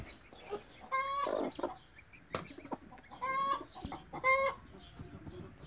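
A brooding hen sitting on four eggs gives repeated soft, nasal clucks and short croaky calls in a few spaced bursts, close and fairly quiet with no talk.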